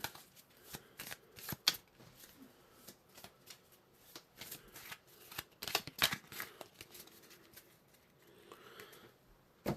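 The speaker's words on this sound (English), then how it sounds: "So we need to shuffle our combat card deck" A combat card deck for a solo 1942 campaign board game is shuffled by hand, with quick riffling bursts and card flicks close by, and no talking.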